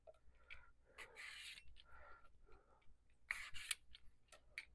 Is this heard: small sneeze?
no